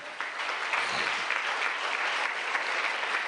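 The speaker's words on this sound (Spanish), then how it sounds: "Entonces dice el aplauso al Señor." A church congregation applauds steadily and loudly throughout, a dense, continuous wash of clapping from many hands with no pauses.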